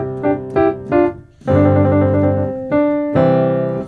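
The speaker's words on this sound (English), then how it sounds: "This is called the tritone, and it's probably the weirdest interval." Tritone interval on a keyboard-like instrument: a few short plucked notes, then sustained two-note chords held for about a second each, close and clear with no talking.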